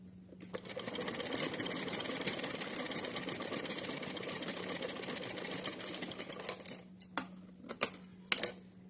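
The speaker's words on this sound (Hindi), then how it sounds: "इस तरीके से सीधी पट्टी सिल के तैयार कर लेनी है।" A sewing machine runs steadily stitching a folded strip of cotton fabric, a close, even mechanical whir for several seconds, then stops and gives way to a few sharp clicks and handling knocks.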